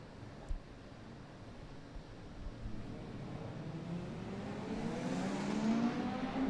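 Mazda and Renault Clio racing cars at a historic motor racing festival approach from a distance, their engine note swelling from a faint rumble into a louder rising whine.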